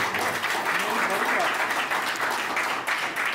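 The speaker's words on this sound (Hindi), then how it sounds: "एक बार ताली बजा के मुझे बता दो" An audience claps at a comedy show, a dense, steady wash of applause throughout with voices mixed in.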